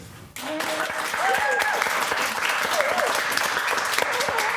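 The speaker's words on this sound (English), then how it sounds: "We'll give him a little round of applause." A crowd at a community talk on local makers breaks into a round of applause after a brief pause, many hands clapping steadily and fairly close, with a few voices and whoops mixed into the clapping.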